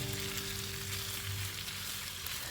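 Meat sizzles steadily in a hot pan, a continuous crackling hiss with a low hum underneath.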